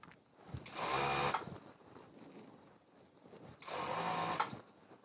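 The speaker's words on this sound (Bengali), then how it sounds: "এ পাশে একটা সেলাই দিলাম" A sewing machine stitching fabric for half pants runs in two steady bursts, each about a second long, separated by a quiet pause, the motor's whirring hum close and clear with no talking.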